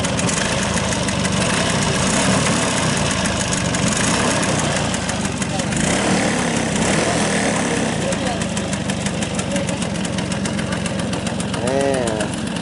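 A 1987 Vespa's small two-stroke scooter engine idles loudly and roughly nearby, its putter rising briefly as the throttle is revved.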